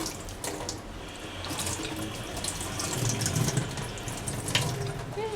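Fresh water pours and splashes steadily onto a small animal, a continuous running-water wash like a tap flow, with voices talking faintly in the background.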